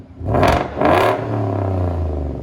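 Ford F-150 with a 5.0L Coyote V8 and Dynomax race bullet exhaust, resonator removed, snaps through two sharp loud revs, then settles into a deep rumbling idle, close and alone.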